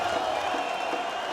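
A large arena crowd cheering at the IEM Rio Major 2022 Counter-Strike event, a steady roar of voices and whoops sustained throughout, dense and enveloping.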